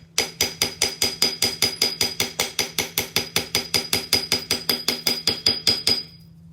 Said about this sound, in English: with your texture hammer, it's more of a repeated hit on your metal